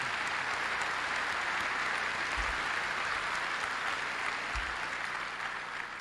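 Audience applause at the Berkshire Hathaway 2003 annual shareholder meeting, a steady, dense wash of clapping from a large crowd that holds at full level throughout, with a couple of low thumps.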